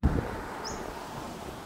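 Wind blows steadily outdoors as a soft, broad rush at moderate level through the whole stretch, with a brief low buffet at the start and a faint high chirp partway through.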